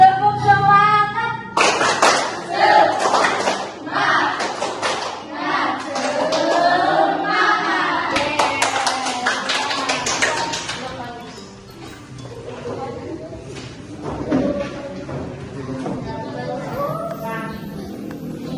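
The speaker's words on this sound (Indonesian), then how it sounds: "Nah, tepuk semangat. Sekali lagi tuh nih, yang kompak." A classroom of students performs the tepuk semangat spirit clap, with bursts of loud, rhythmic group clapping and a teacher's voice speaking between the rounds.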